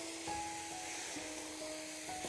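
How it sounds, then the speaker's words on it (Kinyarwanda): A steady sizzling hiss of food frying in hot oil, continuous throughout, with a faint tonal hum underneath. "itangira noneho gukaranga"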